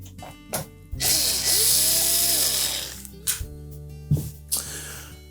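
A power driver whirs for about two seconds, pulling screws from behind the control knob of a GE range, then short clicks and metallic taps follow as the tool stops and parts are handled.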